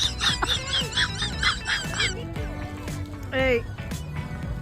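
Ducks honk and quack close by in a rapid run of bursts, followed by another loud call a moment later, while a person talks over the birds outdoors.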